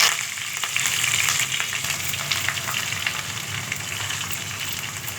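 Peanuts, cumin, mustard seeds and curry leaves fry in hot oil for semiya upma, giving a steady, dense sizzle with faint crackles throughout and no voices.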